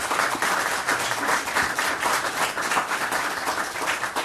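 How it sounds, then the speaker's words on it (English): People at a city council meeting in La Verne give a sustained round of applause, an even crackle of many hands clapping at steady loudness without talk. "Another round of applause for these amazing people."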